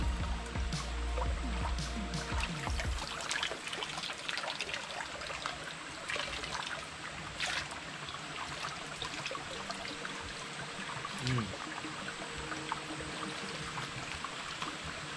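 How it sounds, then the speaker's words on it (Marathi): Natural spring water trickling and flowing steadily in a forest at Phansad Wildlife Sanctuary, a soft continuous babble heard close by with no talk over it. "एकदम नॅचरल झरा आहे, एकदम नेचरमधनं पाणी आलं आहे"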